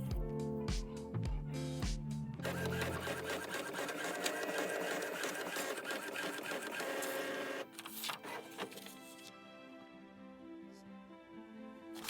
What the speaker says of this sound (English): what I'm gonna do is take these and copy them in a printer